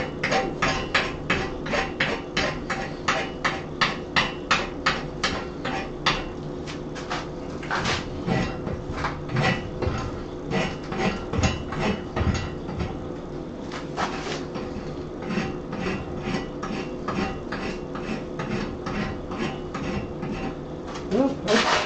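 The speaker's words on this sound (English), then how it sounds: "let me rasp that section off before it ends up coming back to haunt me" A rasp is worked hot across a nail header in steady, aggressive strokes, giving a loud, continuous scraping rhythm that runs throughout without speech.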